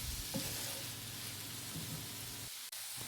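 Mutton liver thokku frying in a pan, with a steady low sizzle and soft scraping as it is stirred, plus a brief quiet gap near the end.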